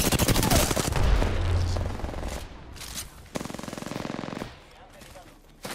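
R-99 submachine gun firing in Apex Legends: rapid, loud automatic bursts, one long spray at the start, then shorter sustained bursts with brief pauses between them, mixed with game effects.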